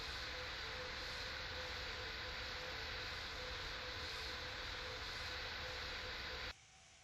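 Steady broadband drone of an aircraft engine in cruise after takeoff from Rome toward Catania in FSX Flight Simulator, loud and unbroken for about six seconds before dropping to a faint hum.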